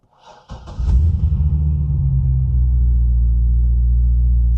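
A Corvette C6 Z06 V8 cranks briefly, then catches with a sharp roar and settles into a loud, deep, lumpy idle rumble that holds steady to the end, close and without talking.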